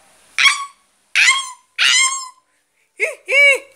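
Five close, loud barks voiced by a person imitating a dog in a Mexican sitcom scene: three sharp yaps, a pause, then two lower, drawn-out woofs.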